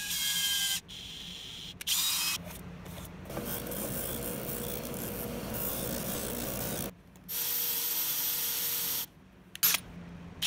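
A power drill countersinks and widens screw holes in a wooden router-lift circle jig body, several whirring bursts stopping and starting close by with brief pauses between them.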